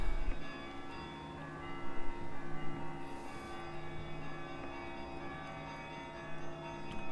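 Church bells toll in the video game Gray Dawn, a sustained ringing tone that sits over a dense, droning ambient background, no voices.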